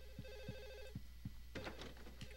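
A telephone rings repeatedly in a quiet, eerie room in the video game Silent Hill 4, with evenly spaced electronic trills over a low hum, followed by a burst of clattering game noise.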